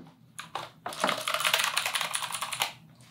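Fingers type quickly on a new backlit computer keyboard priced around $250, a dense, close run of crisp clicking keystrokes that swells and then tapers off over a few seconds.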